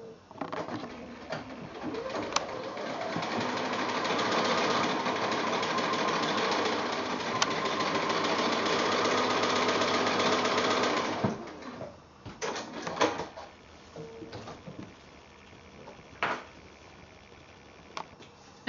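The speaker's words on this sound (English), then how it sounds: "So I'm just going to come back to the machine and do that line." Sewing machine stitching a diagonal seam across quilt pieces, a steady continuous whir running for about eleven seconds, then stopping and followed by short handling clicks and bursts of the machine.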